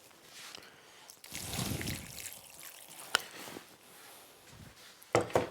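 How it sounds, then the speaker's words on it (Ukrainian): Hot water poured over sauerkraut-leaf cabbage rolls in a pot, heard as a short splashing gush near the start followed by quieter trickling and a few small knocks. "Заливаємо гарячою водою."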